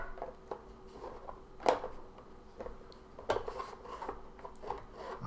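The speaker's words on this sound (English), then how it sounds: "we'll put the lid on the reservoir here. And we'll put a lid on the brew basket as well." Plastic lids set onto the water reservoir and brew basket of a Technivorm Moccamaster KB 741 coffee maker, giving a few light clicks and taps, two sharper snaps standing out, quiet and close, no talking.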